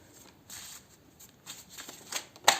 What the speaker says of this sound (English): You just take these cards here for fun.